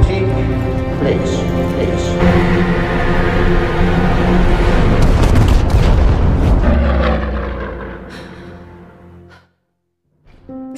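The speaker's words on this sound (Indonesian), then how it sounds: "Yang kemudian kita diperlihatkan pasukan itu dilenyapkan oleh bom Nazi." Bombs dropped by Nazi aircraft exploding among troops at Dunkirk in a World War II film, heard as a loud, sustained rumbling barrage of booms that builds, then fades to near silence before a brief return.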